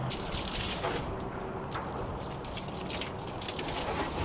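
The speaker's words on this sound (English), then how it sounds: "Spray cold water on that hot engine block," Cold water sprays steadily onto the hot engine block of an overheated S10 with a failed head gasket, producing a continuous broadband hissing gush that stays fairly faint and even throughout, with no talking.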